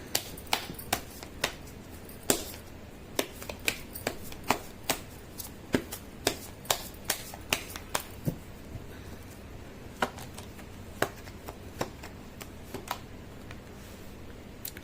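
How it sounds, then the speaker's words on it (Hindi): Tarot cards being shuffled by hand at a tabletop reading, a steady series of sharp, close riffling snaps and flicks repeating every half second or so, alone without talk. "मैं कर लेती हूँ कार्ड की शफलिंग।"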